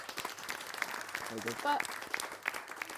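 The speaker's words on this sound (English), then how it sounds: "I think that deserves a round of applause." Scattered clapping from a small group, mixed with a voice talking over it, lasting about three seconds at moderate level.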